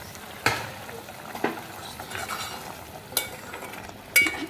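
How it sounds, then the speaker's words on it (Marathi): Gram flour vadis fry in a pan with a soft, steady sizzle, broken by a few sharper scrapes and clinks of a utensil against the pan at irregular intervals. "ह्या वड्या फ्राय करायला ठेवलेल्या आहेत"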